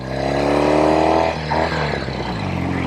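Norton Commando 850 motorcycle engine pulling hard and shifting up through the gears, a loud, close, throaty exhaust note with rising revs, a brief dip at each change, then climbing again.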